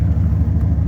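A 1998 Dodge Ram 1500 pickup's 318 5.2-liter Magnum V8 runs at a steady idle, giving a close, continuous low rumble with an even, smooth tone throughout.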